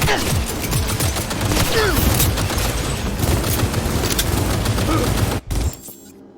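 Dense, continuous gunfire in the video game Cyberpunk 2077, rapid overlapping shots and impacts, loud and close, ending abruptly in a short quieter tail.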